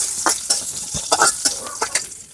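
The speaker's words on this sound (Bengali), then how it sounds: "এই যে ভেন্ডি ভাজির জন্য পেঁয়াজ দিয়ে দিচ্ছি তেলের মধ্যে" Onions dropped into hot oil for okra (bhendi) fry on a village clay stove, giving a bright frying sizzle punctuated by sharp spatula scrapes and clinks against the pan.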